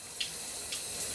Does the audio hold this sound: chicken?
no